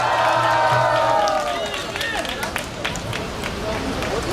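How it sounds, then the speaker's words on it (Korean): An outdoor street-rally crowd near Anguk Station claps and cheers to welcome someone speaker at a Korean Patriotic Party event; a voice and tonal noise open the clip before a dense, steady patter of hands takes over. "박수로 맞이해 주세요."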